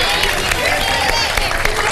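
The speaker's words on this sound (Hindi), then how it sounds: "तो तालियां तो बजा दें।" A studio audience bursts into dense, loud, sustained applause with crowd noise throughout, a steady wash of clapping that fills the whole moment.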